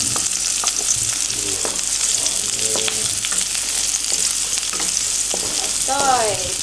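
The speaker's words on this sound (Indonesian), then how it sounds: "Oke, minyaknya udah agak panas. Kita masukin langsung bawang merah sama bawang putihnya." Shallots and garlic fry in hot oil for green fried rice with salted jambal roti fish, giving a steady close sizzle with occasional scraping stirs of a utensil and no voices.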